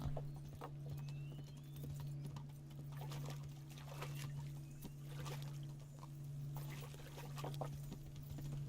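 Roach, a horse in the video game Kingdom Come: Deliverance, trots with a steady, even clip-clop of hooves under a constant low game hum, moderately near and consistent throughout.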